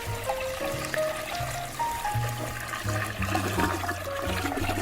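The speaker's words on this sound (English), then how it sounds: "it was an incredibly solid and relaxing, relieving flush" Toilet flush with gurgling, rushing water in a domestic bathroom, a steady close wash of sound lasting several seconds with tonal hums and trickling throughout.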